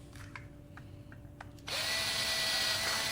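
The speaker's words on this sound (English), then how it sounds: "now let's drill our holes" A power drill bores a hole in a PS4 controller shell, giving a steady, close, loud whine that starts abruptly after a few faint clicks and handling noises.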